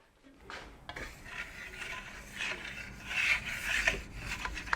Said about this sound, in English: Now I'll let this set up and I'll burnish it one more time.